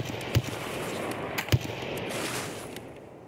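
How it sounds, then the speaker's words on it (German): Sniper shots fired from a hilltop in the shooter game Escape From Tarkov, two sharp distant cracks about a second apart, each followed by a rolling echo over quiet ambience. "da schießt einer vom Hügel oben"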